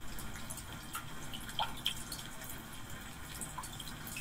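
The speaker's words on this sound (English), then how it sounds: "rainy day," Rain soundscape played through the 21-speaker Lexicon system in a 2021 Genesis GV80, a soft steady patter with scattered light drips, faint and even throughout.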